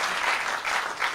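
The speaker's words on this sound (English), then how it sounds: "That's worth an applause." A short, full burst of audience applause at a live stage performance, steady dense clapping that swells slightly near the end.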